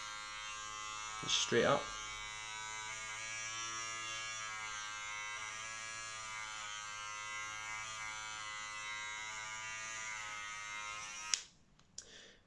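An electric hair clipper buzzes steadily up close while a man cuts his own hair, holding a constant whine for about eleven seconds before cutting off, with a few brief spoken words near the start.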